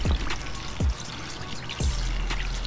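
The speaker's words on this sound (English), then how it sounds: "So you're pushing the water from the inside out so we can push the dirt out." Water rinsing through an INJEN car air intake filter from the inside out, a steady close pour and trickle with a few brief splashing surges.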